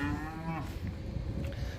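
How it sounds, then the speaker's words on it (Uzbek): A calf lets out one clear moo near the start, followed by low rustling background noise. "Bular shu 1 oylik bo'lgan buzoqchalar, sementallarimiz"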